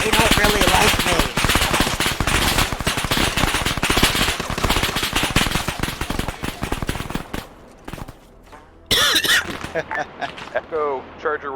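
Machine gun fire rattles in a war video game during a West German military campaign, dense rapid bursts for about seven seconds, then a pause and a few shorter bursts, with radio chatter and voices talking over it.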